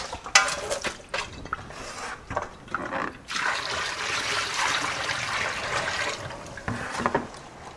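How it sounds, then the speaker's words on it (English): Water runs over sunflower seeds as they are rinsed, a steady close splashing and trickling stream with a few clattering knocks at the start and near the end. "We'll give the sunflowers a quick rinse here."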